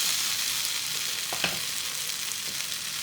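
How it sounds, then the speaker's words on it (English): Paneer sizzler frying in a hot pan gives a continuous, close sizzle and crackle, with a couple of small clinks from stirring. "So we'll just let that sizzle away now"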